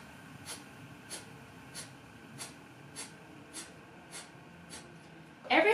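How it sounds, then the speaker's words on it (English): Forceful Kapalbhati exhalations through the nose come as nine sharp, evenly spaced puffs, roughly two every second, close and clear, with a brief louder burst at the very end. "So it's the active exhalation and then passive inhalation"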